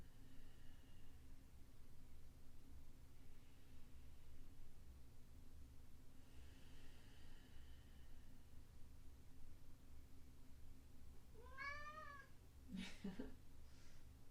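A cat meows twice near the end, short and rising, after a long quiet stretch of steady background hiss and hum.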